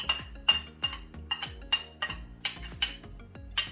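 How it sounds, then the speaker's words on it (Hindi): A metal spoon taps and scrapes against a bowl as ghee goes into dough for sweet tikiya. About ten sharp, bright clinks come at a quick, uneven rhythm, close by and alone. "अब हम इसको में ये घी भी डाल देते हैं"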